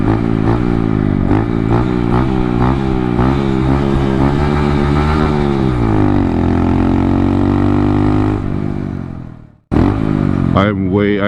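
A Honda Grom motorcycle engine runs close by with a loud, steady low idle whose pitch steps up and down through gear changes, then cuts abruptly to near silence before catching again.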